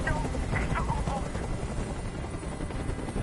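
Rotor noise from a helicopter in Detroit: Become Human: a dense, steady, droning roar that fills the whole stretch, with faint voice fragments near the start.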